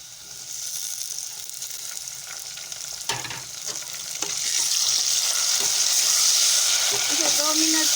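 Tomatoes sizzle as they go into a pan of golden brown fried onions, a steady broadband fry that swells louder partway through, with scattered stirring clinks and scrapes.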